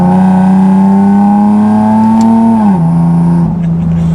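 Supercharged 400 WHP Nissan 370Z engine and exhaust pulling steadily at quarter throttle in fourth gear, a loud, close, continuous drone that holds a constant pitch before dropping briefly near the end.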